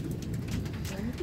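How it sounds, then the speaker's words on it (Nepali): Steady rain hisses down during a New Year 2082 visit to Syamsila, Nepal, a dense, even wash of patter that fills the whole moment, with faint voices murmuring beneath it near the end. "पानीले आज हैरान पार्ने भयो कसरी जानु नि फुपू"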